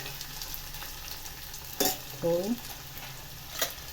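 Tomatoes, chillies and onion fry in a pan for a bitter gourd peel chutney, a steady soft sizzle broken by a couple of brief stirring scrapes, with one short spoken word.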